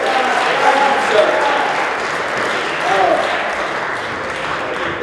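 An audience at a Black community conference applauds a speaker, with dense, sustained clapping across the whole stretch and faint tonal traces mixed in.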